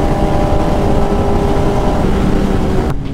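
A Kawasaki Ninja ZX-10R carrying two riders cruises fast at about 140 km/h on a highway, its engine and wind roar held steady and loud before cutting off abruptly at the end.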